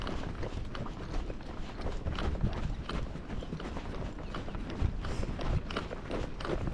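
A Rocky Mountain Horse gaits over ground, hooves striking in a quick, even four-beat rhythm, moderately close and steady with no talking.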